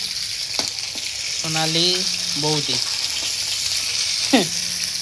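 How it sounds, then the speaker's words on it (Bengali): Fish fry in oil until red and crisp, a steady sizzling hiss running throughout, while a person speaks briefly and voices chatter faintly in the background. "লাল লাল কড়া কড়া করে মাছ ভাজছে"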